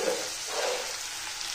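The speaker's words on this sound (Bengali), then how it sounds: "এবার এটাকে ভালো করে কষিয়ে নেবো।" Green chilli, turmeric powder and salt fry in a pan, giving a steady, soft broadband sizzle at moderate distance with no voices.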